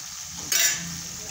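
Tomato bhaji for masala pav cooks in a pan with a steady, close sizzle, and a sharper burst of frying noise swells briefly midway before it settles back to a soft hiss.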